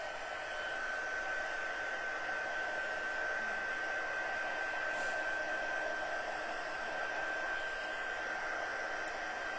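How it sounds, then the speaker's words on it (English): A craft heat tool blows a steady, loud whoosh of hot air to dry an embossed card with plastic underneath, holding a thin high whine throughout without any break. "we're going to use our heat tool and dry it before we cut it down"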